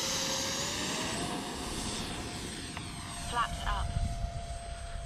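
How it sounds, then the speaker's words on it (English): X-2100 jet-powered RC glider flying outdoors, a steady distant jet whine with a rising tonal line, growing louder and rougher toward the end as the plane passes nearer. "this is a great flying plane right here now"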